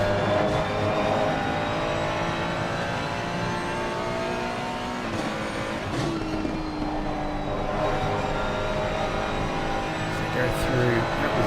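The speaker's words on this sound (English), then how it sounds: "Downshifts on the Ferrari." A Ferrari race car in a PC racing game at Silverstone revs and drops through gears as it downshifts, a continuous buzzing engine tone beneath a commentator's voice.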